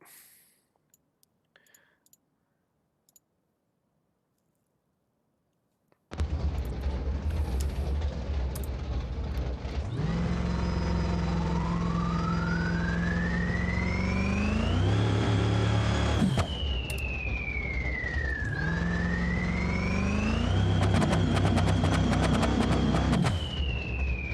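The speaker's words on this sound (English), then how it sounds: "I'm revving this thing all the way out." In the video game BeamNG.Drive, after a silent stretch, a car engine starts and idles, then revs up sharply twice, its pitch climbing and holding high before dropping back, loud and close.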